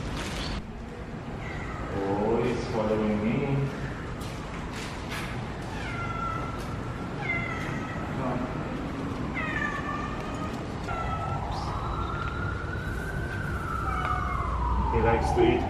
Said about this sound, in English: So this is one of the cats that I'm feeding.